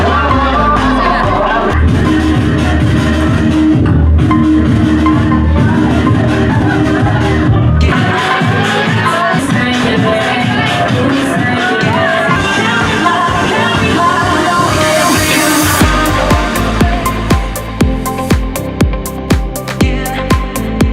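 A packed evening crowd at Chili Bar in South Cebu fills the room with a loud, dense wall of chatter and cheering blended with thumping music, steady throughout and growing choppier near the end.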